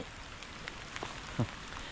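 Rain falls steadily in a forest during a bamboo-shoot foraging trip, a soft, faint, continuous patter with a few scattered louder drops and no voices.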